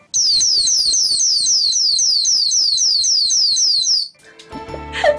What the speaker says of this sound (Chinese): 除了悄悄的报警呢，它还可以进行一个高分贝的报警